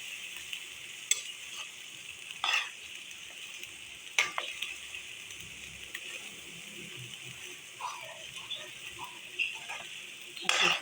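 Black chickpeas fry with onions in a pan, a steady close sizzle broken by several sharp clacks of a spoon stirring against the metal at irregular intervals.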